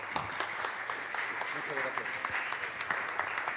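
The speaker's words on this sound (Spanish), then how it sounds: "Un fuerte aplauso, por favor." Audience applause at a book presentation, steady clapping from a seated crowd running throughout, with a voice speaking briefly over it.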